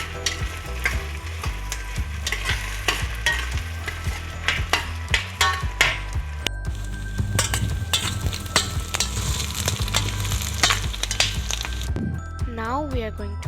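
Chopped onions fry in a pan for a shrimp coconut curry, a continuous loud sizzle with scattered crackles and stirring clinks, while steady music plays underneath throughout.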